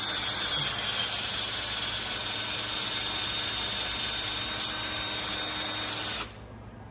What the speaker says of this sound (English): I'm gonna use my drill brush and just try to get some of that rust off